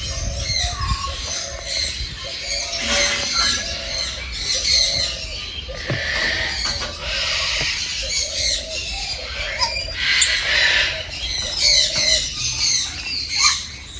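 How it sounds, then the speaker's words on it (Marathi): Black and grey parrots in a bird park aviary squawk and screech in repeated harsh bursts, several birds calling close by over a constant chattering background. "पहिला काळा पोपट आहे आणि त्याच्या पुढे सगळे असे ग्रे पोपट, छोटे छोटे पोपट असे आहेत"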